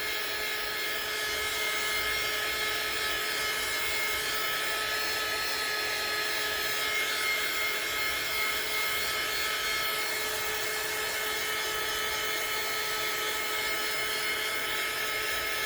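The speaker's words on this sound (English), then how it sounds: "Do not hold your dryer in one place or it will burn your clay and it'll burn your glaze." A hair dryer blows steadily on a glazed clay fingerprint ornament, giving a constant, even whirring hiss with a faint tonal hum that runs unbroken and close throughout.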